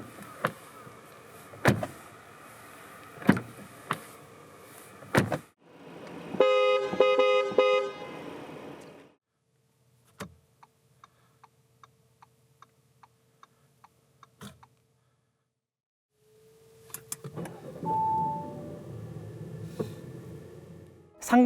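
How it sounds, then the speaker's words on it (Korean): An Audi A6 45 TFSI quattro with electronic door-handle locks, heard in a sequence of clicks, a horn toot, motorized whirring, a run of soft ticks and door mechanism sounds, all close and clear. "살짝 당겨 문을 열 수 있고 물리적으로 당겨서 여는 것도 가능합니다."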